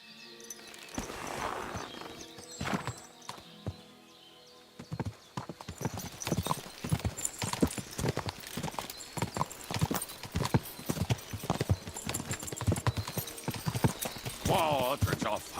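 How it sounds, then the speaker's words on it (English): Horse hooves clip-clop steadily in Kingdom Come Deliverance 2, a brisk rhythmic trot that starts after a quieter opening, with a brief whinny and someone talking over parts of it. "I must get on my horsey."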